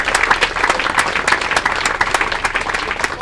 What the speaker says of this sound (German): Applaus bitte.